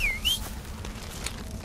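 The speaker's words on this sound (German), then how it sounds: "Einmal pfeifen und er ist wieder da." A short rising-and-falling whistle in Far Cry Primal, used to call a companion back, heard once near the start over low ambient game noise.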